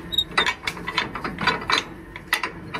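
Truck container locks being tightened by hand with a ratchet: a rapid series of loud, close clicking pawl strokes in uneven bursts, with no talk.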